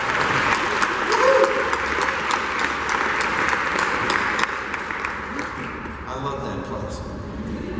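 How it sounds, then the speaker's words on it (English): Applause from an audience at a university event celebrating a new recreation and fitness center, a steady dense wash of clapping with some voices mixed in, easing slightly toward the end. "Let's give it a round of applause."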